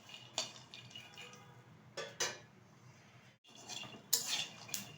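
Peanuts dry-roasting in a pan for laddu, with sharp scraping and clinking strokes against the metal at irregular intervals over a faint crackling bed, close and quiet, no voices.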